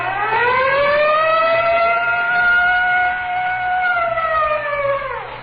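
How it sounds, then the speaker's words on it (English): A wailing siren from the Texaco Fire Chief radio program rises, holds a steady tone, then winds down, loud and alone. "Whenever you hear the siren and bell"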